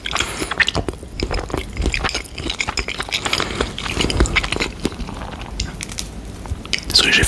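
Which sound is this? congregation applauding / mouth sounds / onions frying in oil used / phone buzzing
mouth sounds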